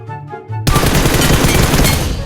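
A burst of rapid automatic rifle fire in the PUBG Mobile game, loud and close. It starts abruptly after a short moment of quieter game sound and continues as a dense rattling volley.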